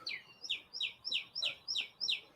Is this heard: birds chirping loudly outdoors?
yes